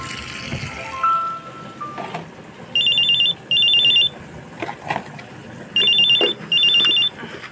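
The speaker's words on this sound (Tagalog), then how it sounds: "Cellphone ko ba yung tumutunog?" A cellphone ringtone chimes in two repeated bursts of bright electronic tones, each pair separated by a pause, loud and close against a quiet indoor background.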